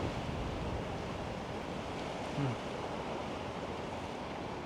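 Strong wind blowing outdoors in Zaragoza, a loud continuous rush buffeting the microphone with a brief gust swell near the middle.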